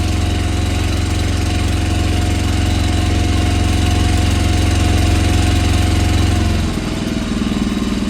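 A 48V DC generator engine runs loud and steady under load, then near the end its drone drops audibly as it settles back to a lower idle.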